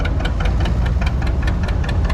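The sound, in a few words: John Deere 630 tractor engine running in a parade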